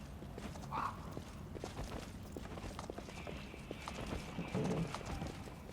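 Horses in the fantasy video game Wrath of the Righteous: steady clip-clop of hooves with a short whinny and a snort, moderately loud over a dense game soundscape.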